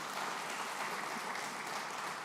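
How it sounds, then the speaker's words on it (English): Steady clapping from a crowd at a community center gala, faint and distant, a continuous wash of applause with no voices. "Give some applause to that"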